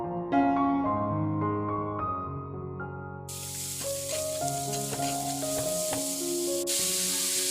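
Crushed cumin, pepper, turmeric and onion sauté on a low flame for pepper chicken. A bright, even sizzle starts partway through and continues over soft background music.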